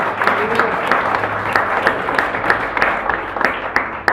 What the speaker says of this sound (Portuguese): Bate palmas, exalta o nome do Senhor.